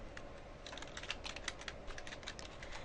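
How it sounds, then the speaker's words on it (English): Steady typing on a computer keyboard while text is entered into a presentation slide, a fast run of light, close key clicks with no voices. "So we're going to type this information in here."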